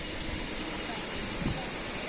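Jirikendeng waterfall in West Karbi Anglong, a dense, steady rushing roar of falling water filling the whole scene, with a voice briefly audible beneath it.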